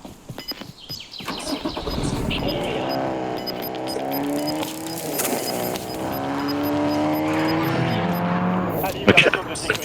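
A car in the video game Warzone drives off with an engine that revs and rises in pitch through gear changes, close and loud, with a tire squeal or skid near the end.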